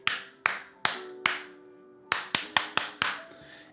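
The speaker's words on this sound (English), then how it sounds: "Do some clap test here." Hand claps for an audio sync test on a DSLR recording, nine sharp, close, loud claps in uneven rhythm, with a ringing tail after each in a quiet room.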